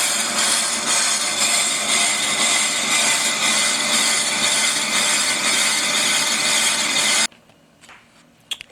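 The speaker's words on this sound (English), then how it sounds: "So we'll take this pass, and I'll probably make another one, but I'll show you the finished product when it comes off the lathe." A lathe takes a cutting pass on a Willys brake drum, giving a loud, steady grinding hiss of metal being turned that runs without a break and then stops abruptly near the end.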